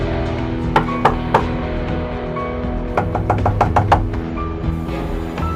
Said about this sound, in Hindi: उसी समय बुध की खिड़की पर खटखटाने की आवाज आई।